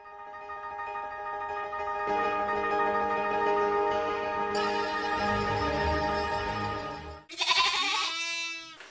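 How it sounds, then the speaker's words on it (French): A goat bleats in a long, wavering, drawn-out cry that holds steady for several seconds, loud and close, then breaks into a shorter, harsher bleat at the end. "La chèvre."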